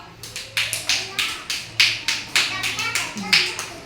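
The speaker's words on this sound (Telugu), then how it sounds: "క్లాప్స్ కొట్టండి పిల్లలు." Young children at an anganwadi clap together in a quick, fairly even run of about a dozen sharp claps. The claps are close and distinct over a quiet room.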